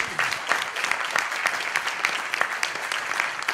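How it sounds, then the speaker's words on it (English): Round of applause from a conference audience honoring a congressman, continuous dense clapping from many hands, steady and fairly loud with no talk over it. "give him a round of applause"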